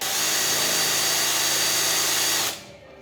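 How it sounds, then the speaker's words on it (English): A power drill whines loudly and steadily for a couple of seconds while drilling out a bolt with a snapped-off piece inside, then winds down and stops abruptly, recorded up close. "so I'm gonna try to drill them out"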